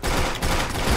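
Video game gunfire rattles in a loud, dense burst of rapid shots with a brief gap partway through, close and filling the whole moment.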